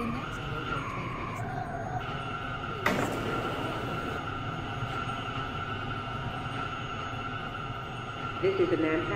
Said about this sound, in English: This is a Manhattan bound A express train